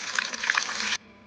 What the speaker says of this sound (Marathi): ही भाजी असं आपण छान धुवून घेऊ.